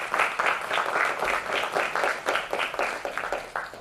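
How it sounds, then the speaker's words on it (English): At the opening ceremony of the Chile and NFDC film festival, the audience claps for the film director, a rhythmic round of applause with distinct pulsing claps throughout. "Can I have a big round of applause for him?"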